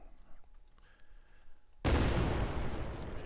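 A video-game explosion sound effect from an Unreal Engine 4 demo hits suddenly after a quiet lead-in, as one loud, close boom that rumbles and slowly fades.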